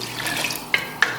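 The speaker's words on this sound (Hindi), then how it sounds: "उसके बाद हम इसके अंदर तकरीबन 1 लीटर पानी डाल देंगे।" Water is poured into a pot of masoor dal with finely chopped ridge gourd, giving a short close splashing gush with two small sharp splashes near the end, no voices.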